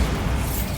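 Blast from the Bombarda explosion spell inside a tomb in the Hogwarts Legacy video game, a short, loud, dense burst of low booming noise filling a split second.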